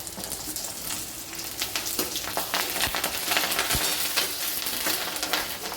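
Curry leaves crackle and sizzle as they hit hot oil with sautéed onion and green chilli, a loud close frying hiss with spattering pops and stirring scrapes.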